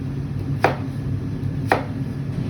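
Two sharp chopping thuds about a second apart over a steady low machine hum, close and fairly loud, as onion is cut for çiğ köfte.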